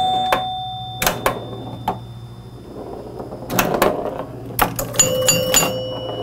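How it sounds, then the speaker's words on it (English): A 1977 Gottlieb Bronco electromechanical pinball machine rings its chimes in clear ringing tones among mechanical relay clacks and clicks, loud and close, irregularly spaced across the span. "I'm so happy those chimes are working."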